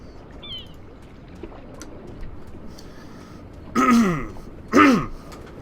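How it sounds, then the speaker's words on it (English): Two short, raspy throat clears close to the microphone, one after the other, following a quiet stretch. "Clearing my throat."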